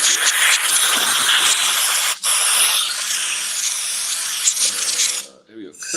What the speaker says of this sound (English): I'm gonna blow the carb